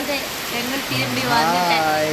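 Heavy rain pours in a steady, dense hiss while a person talks over it close by.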